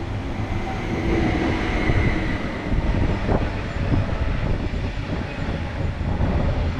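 A commuter train from Nasielsk bound for Warszawa Gdańska runs past close by, a steady, loud rolling rumble with faint wheel clatter and no voices throughout.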